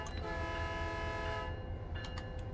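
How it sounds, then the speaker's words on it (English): A locomotive horn on a MP36PH diesel train in the Train Sim World 5 video game, heard from inside the cab: one sustained, loud horn blast over a steady engine and rail rumble, then a few short clicks once the horn stops. "let's hear the horn on the inside"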